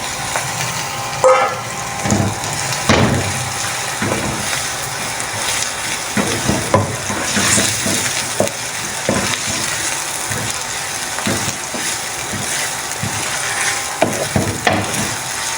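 Minced meat fries with softened onions in a pan for a drumstick keema dish, a loud, constant sizzle broken by repeated scraping and clacking strokes of a stirring spoon, heard up close with no voices.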